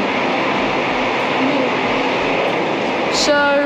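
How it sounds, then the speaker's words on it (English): A fully loaded freight train rolls steadily through Twyford railway station, a loud continuous rumble and rush of wagons sustained throughout, with a brief high tone near the end. "The fast train just going, actually it's a cargo. It's a full train"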